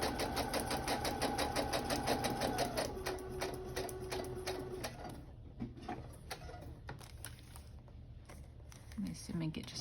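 Sewing machine stitching the pocket of a utensil bag, a steady rapid needle chatter that slows and stops partway, with someone talking over and between the runs.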